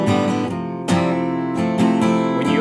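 Open strummed acoustic guitar chords ring out fuller and louder, several bright strokes with sharp attacks and sustained, shimmering tails in a steady strumming pattern.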